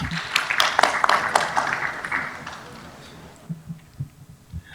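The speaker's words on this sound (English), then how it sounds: "Please give a round of applause for Mr. Stachio Williams." A conference audience applauds the panel chair. Dense clapping starts strong, then fades out over a few seconds, and scattered footsteps or thumps follow in quieter room noise.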